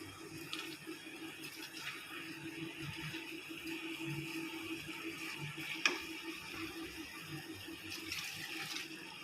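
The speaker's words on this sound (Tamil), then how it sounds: "கலந்து வச்சு தண்ணியை ஊற்றியாச்சு" Water poured into rice for a one-pot chicken biryani, a steady soft splashing and trickle running for several seconds at moderate distance, with one brief clink partway through.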